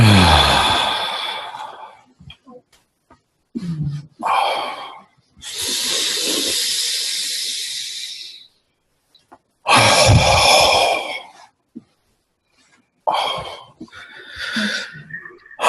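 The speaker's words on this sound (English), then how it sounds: "Just taking a couple of deep breaths." Slow, deep breaths during a relaxation exercise, several long drawn inhales and exhales close to the microphone, separated by short silences.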